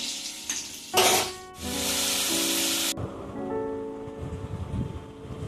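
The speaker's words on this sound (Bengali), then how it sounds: "আলুটা একটু ভাজা ভাজা হোক" Potatoes fry in a pan, with loud bursts of hissing sizzle that flare and then die down to a softer crackle over a few seconds, with no speech.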